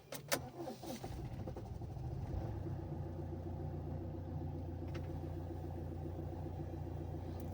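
A Mercedes W211 engine starts at minus 11 degrees, with a few sharp clicks and a brief crank settling into a low, steady idle rumble heard close and alone.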